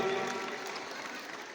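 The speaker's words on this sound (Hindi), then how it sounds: "सभी से अनुरोध है कि अपनी तालियों की गड़गड़ाहट से इनको सम्मान दें।" Audience applause at a school Republic Day cultural programme and award ceremony, a dense steady wash of clapping from a crowd that holds evenly for the whole stretch, with a faint tonal hum underneath.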